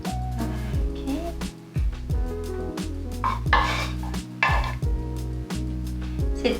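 Peanut sauce made from peanut butter, coconut milk and curry powder is added to a tofu Buddha bowl and stirred, giving soft scraping and clinking of a utensil against a bowl over a steady background hum.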